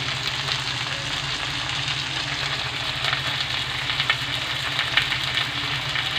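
Tilapia fish fry in oil in a pan for a dopiaza, producing a steady, close sizzle with faint crackles and pops throughout and no talking.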